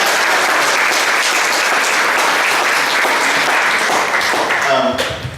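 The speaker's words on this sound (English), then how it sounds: "give them a big round of applause" Loud, steady applause from an audience at a winter recital as students head up to perform, fading out in the last second with a brief voice.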